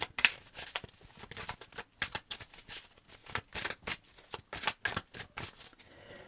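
Tarot cards shuffled and drawn by hand: quick, soft riffling bursts and flicks in an uneven rhythm, quiet and close, with no talking.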